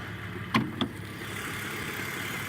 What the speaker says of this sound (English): I'm going to turn the engine off, actually, because it's probably quite noisy.